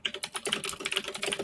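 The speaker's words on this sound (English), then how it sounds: "whoever is typing is very loud right now" Rapid, loud clacking of keys on a computer keyboard, dense and close-up, with quick uneven keystrokes running continuously and no voices.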